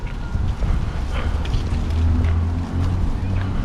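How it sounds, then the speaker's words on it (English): Gusty wind buffets a microphone atop Chester's Roman and medieval city wall, a continuous low roaring rumble that swells and eases in waves, with no clear speech over it. "It's very windy out here."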